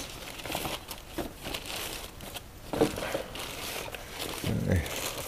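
Double-bagged plastic packaging around a shipment of IR ceramic heaters from China crinkles and rustles in soft, intermittent bursts as it is handled up close, with quiet background noise between the crackles.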